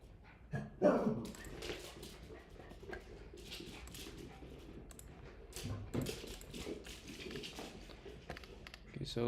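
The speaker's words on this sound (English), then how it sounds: "Dude, these dogs, bro." Dogs barking and whimpering close by in an indoor setting, with intermittent yips breaking out over a steady murmur of speech throughout.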